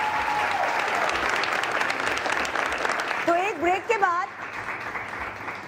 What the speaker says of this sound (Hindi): जरूर तालियां बजा कर दुआएं करना।